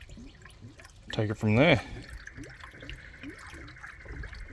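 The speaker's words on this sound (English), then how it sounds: "so just gonna fill the coolant up" Coolant is poured into the radiator of a 4x4 while a thermostat and radiator are serviced, producing a steady trickle and drip of liquid close by, with someone talking over it throughout.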